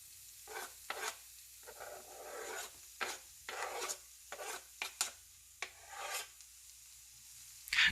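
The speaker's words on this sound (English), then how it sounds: "Notice whenever I'm scraping them off the cutting board, I'm using the back side of the knife." Back of a knife scraping chopped mushrooms across a cutting board while cooking, a series of short rasping scrapes at an uneven rhythm, close and fairly quiet, with no talking.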